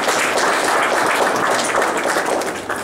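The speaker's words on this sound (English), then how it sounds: "Give him a round of applause" Steady, dense applause from a crowd at an art exhibition opening, a continuous crackling wash of many hands clapping that holds level before easing slightly at the end.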